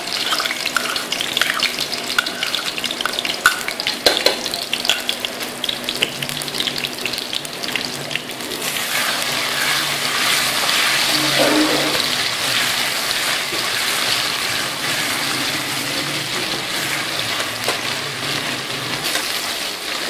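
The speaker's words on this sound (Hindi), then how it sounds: "अब मैं इसमें लहसुन का पेस्ट शामिल करूँगी दो चम्मच।" Garlic paste, two spoonfuls, sizzling in hot ghee for a spicy mutton salan curry, a steady loud crackling hiss that swells and thickens partway through and keeps going alone without any talk.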